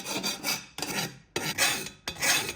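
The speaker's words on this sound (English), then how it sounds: "We'll remove any burrs." A hand file rasps over the cut edges of metal stove legs made from a fire extinguisher, deburring them in four distinct strokes separated by short pauses, close and fairly loud with no voices.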